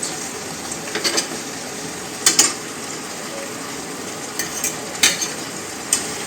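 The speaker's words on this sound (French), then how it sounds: "je vais les enlever et les mettre dans une assiette" Wine-braised endives are lifted from a pan onto a plate, with a scattering of close scraping clicks and utensil taps against metal over a soft, low sizzle.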